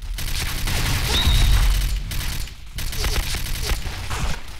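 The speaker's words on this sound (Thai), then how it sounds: "ก็จะปืนพกยิง" Gunfire in the Point Blank first-person shooter, a dense run of sharp shots with a possible pistol among them, loud and continuous across the whole stretch, with game sounds and a voice underneath.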